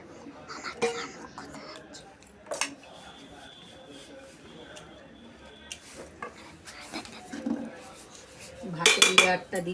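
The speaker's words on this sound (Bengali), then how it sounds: "প্রথমে ভাতের লেয়ারটা দিচ্ছি।" Rice being spooned in layers into a homemade biryani pot, with metal spoon clinks and scrapes against the pot, sporadic then louder rattling near the end, and soft speech and murmurs in between.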